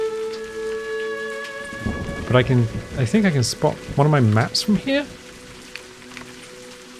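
Steady rain falls in the Scottish Highlands exploration game A Highland Song, a soft continuous patter running under a person speaking for several seconds.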